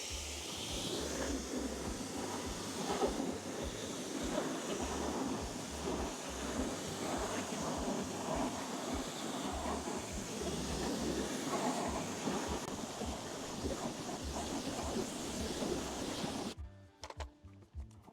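A steady water spray hisses at close range as a car wheel is rinsed of wheel cleaner, broadband and unbroken for most of the stretch before cutting off near the end.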